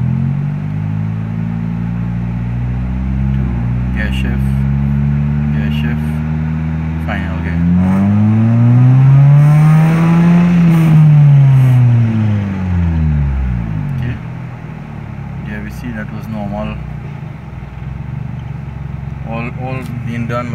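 A Mitsubishi Lancer with a 4-speed INVECS-II automatic converted to tiptronic pulls away in drive, the engine note rising steadily in pitch to a peak and then falling as it shifts, close and fairly loud.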